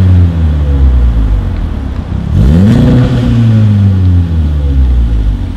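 A VW Golf R MK7 with an Armytrix exhaust and its valves open accelerates hard. The engine note sweeps up sharply midway, then holds a loud, close, rasping drone.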